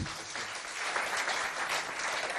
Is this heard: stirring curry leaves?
no